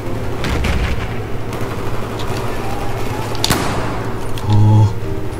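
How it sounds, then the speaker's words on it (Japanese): Gunfire in a Battlefield 4 battle: scattered shots and distant cracks over a steady low rumble of war ambience, one louder burst standing out midway, with a speaking voice layered underneath throughout. "敵が撃ったぞ"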